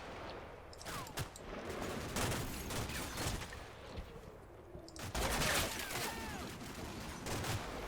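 Gunfire in a video game as spotted troops come under fire: scattered bursts of shots and rattling volleys, moderately distant, with a few sharper cracks standing out against a continuous background din.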